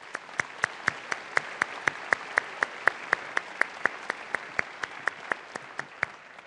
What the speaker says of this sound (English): Please applaud and welcome them.